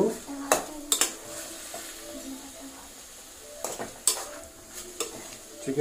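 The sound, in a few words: chicken cooking in oil in a pan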